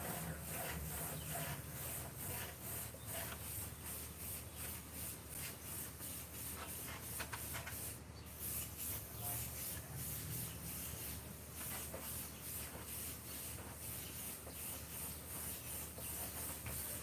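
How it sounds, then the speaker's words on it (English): A spray gun lays down a coat of pearl paint on a nitro RC body in a steady, unbroken hiss that stays faint and continuous throughout, with no talking. "spray down a little more."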